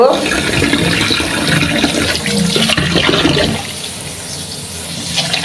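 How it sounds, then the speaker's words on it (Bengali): Red lentils are washed under running water, a loud, steady rush and splash of water with swishing that eases slightly near the end, close by. "এখানে আমি ডালগুলি সুন্দর করে ধুয়ে নিব"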